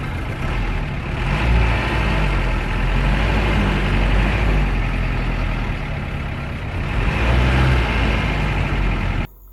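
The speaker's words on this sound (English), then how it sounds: "listen to the sound of this vehicle's engine" A vehicle engine idles in traffic on a public transport route in Enugu, Nigeria, a steady, loud mid-pitched rumble with two brief surges as it revs, running continuously before cutting off at the end.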